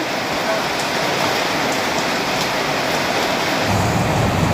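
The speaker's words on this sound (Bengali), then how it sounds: "দেখছেন বৃষ্টি ডাকতেছে কেমন" Heavy rain falls in a rural village, a dense, steady roar of water that stays loud and close throughout with no break.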